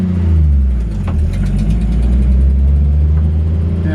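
A 1974 Jeep CJ5 engine runs loudly nearby with a rough low rumble, idling and revving slightly throughout.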